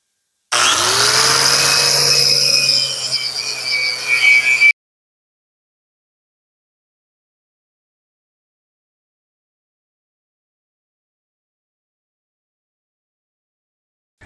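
A power tool grinding scale off an old Ford truck frame during restoration, one loud continuous whine of about four seconds with a slight dip in pitch, then abrupt silence.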